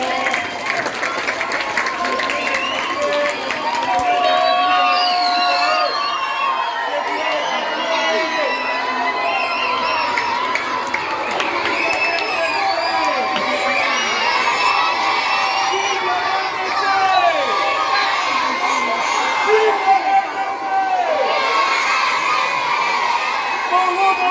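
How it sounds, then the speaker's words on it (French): A large crowd at a Congolese prayer gathering cheers and shouts loudly and continuously, with children's high shouts and whoops mixed into a dense, sustained roar of voices and some clapping. "Acclamez très fort"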